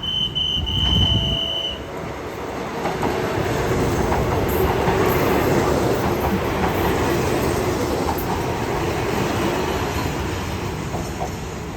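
Ordinary passenger train arriving at Bang Sue Junction station in Bangkok, a loud continuous rumble and clatter of wheels on rails close by, with a short high squeal near the start.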